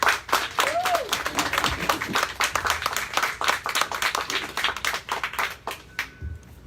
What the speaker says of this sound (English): Let's give this person a wonderful round of applause as they come.